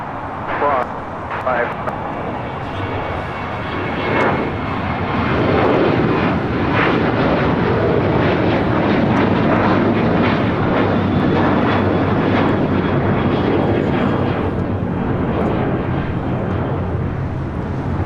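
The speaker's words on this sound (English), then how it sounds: "This is American Airlines Flight 539 taking off to Austin, Texas on a 737-800." An American Airlines Boeing 737-800 takes off from LAX for Austin, Texas: a broad jet roar builds after a few seconds and stays loud and sustained, with voices talking over it.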